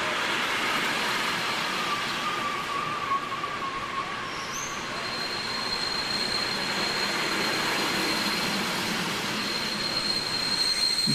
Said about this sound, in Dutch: Behoorlijk lange trein.